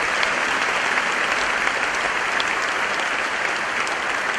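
A church congregation applauds its founding elders, standing in their honour. The clapping is dense, loud and sustained from start to finish, with no voices over it.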